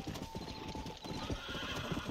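Rapid rhythmic hoofbeats of a galloping horse in the video game Red Dead Redemption, steady and close, with a whinny mixed in.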